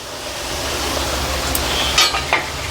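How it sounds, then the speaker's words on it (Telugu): Ribbon pakodi deep frying in hot oil, a continuous dense sizzle and bubbling, close up, with a few brief scrapes and clinks of a ladle near the end. "ఇట్లా రెండు గరిటెలు పెట్టి నేను డీప్ ఫ్రై చేస్తున్నానండి"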